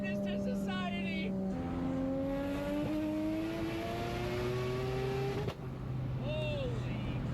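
A Mazda RX-7 rotary engine revs and pulls hard through the gears, its pitch climbing steadily, dropping at a shift and climbing again, loud and close with a voice talking over it.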